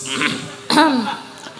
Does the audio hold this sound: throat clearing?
yes